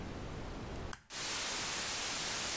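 Browser-generated white noise from Web Audio: a steady, loud, full-band hiss that drops out briefly for a fraction of a second and then resumes stronger and constant, with no voices.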